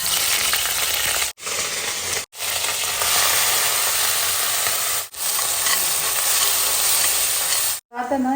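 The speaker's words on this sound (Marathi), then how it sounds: "मस्त अद्रक लसूण पेस्ट टाकते" Ginger garlic paste hits hot oil in a wok with cardamom, producing a loud, close, continuous sizzle broken by a few abrupt silent cuts.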